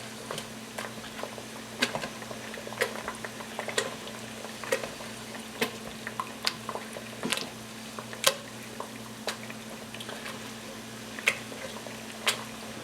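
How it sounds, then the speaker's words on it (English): Raspberry and saskatoon berry jam beginning to boil in a pot, giving a steady stream of small pops and bubbling ticks over a low hum, irregular and moderately close, with no talk. "We're just starting to get to a bit of a boil here."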